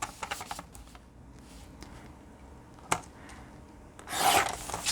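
Cardstock is sliced with a paper trimmer, giving soft scraping and rubbing sounds with a sharp click partway through and a louder rasping slide of the blade near the end, close and quiet.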